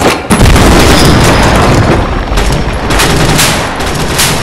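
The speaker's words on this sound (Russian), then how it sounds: "Граната!" A grenade blast in a World War video game bursts out loud and close, a heavy boom followed by sustained rumbling gunfire and explosions that fill the whole stretch.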